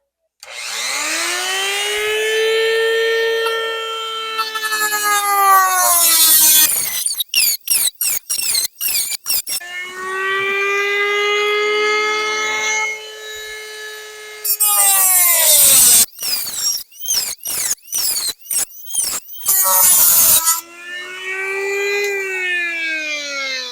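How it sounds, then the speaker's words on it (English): A Dremel rotary tool cuts open a tin can, its motor whining and rising, steady grinding broken by rapid stuttering bursts as the blade bites the metal, loud and close throughout. "Got us a tin can. The first one we'll do is we'll cut that open. A Dremel"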